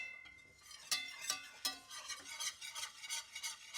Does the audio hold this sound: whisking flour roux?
yes